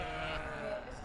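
A single sheep bleats nearby, a short wavering call lasting about a second.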